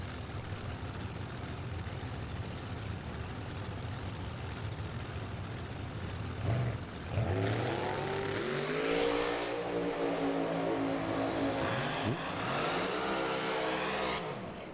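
A drag racing car at Firebird Raceway sits with a steady low engine note, then its engine revs hard with a sharp rising sweep and several climbing bursts, loud and close with no talk.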